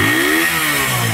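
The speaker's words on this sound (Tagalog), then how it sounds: "Ayan mga boss, ang motor ni sir." A motorcycle engine runs after a piston ring and guide replacement, a loud close steady idle with a buzzy mechanical tone and a slight rev that rises and settles.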